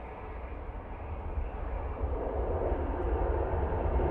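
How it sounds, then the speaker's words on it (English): A Boeing 737 touching down at windy Manchester Airport makes a broad, distant roar of engines and wind that slowly swells louder over a few seconds, steady and rumbling with no voices. "Nice landing there from that 7-3."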